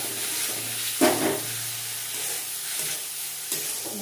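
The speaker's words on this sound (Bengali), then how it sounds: "সব মশলা, টমেটো, কাঁচা লঙ্কা। সামান্য একটু জল দিচ্ছি।" Water poured into frying spices, tomato and green chilli brings up a sudden burst of hissing sizzle with a brief splashy surge. A softer steady sizzle continues with an occasional stir, close up and without speech.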